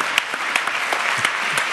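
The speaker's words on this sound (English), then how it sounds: "I would like to ask you to get up and clap for Kofi Annan" Audience applause for Kofi Annan at a talk on intervention in war and peace, with dense, even clapping and a few sharper individual claps standing out briefly.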